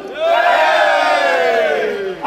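A crowd at a 2017 city run in Lippstadt lets out a loud, sustained cheer on cue, many voices roaring together in a single long swell that fades briefly near the end before rising again.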